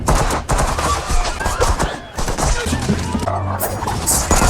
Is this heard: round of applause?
no